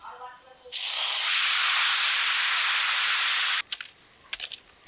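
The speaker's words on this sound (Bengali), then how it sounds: "এবার শাকগুলো তেলের উপরে দেব।" Taro leaves drop into hot oil with an abrupt, loud, steady hiss and sizzle lasting about three seconds, then cut off into a few scattered clicks and crackles.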